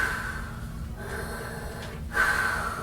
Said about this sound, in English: he still heard heavy breathing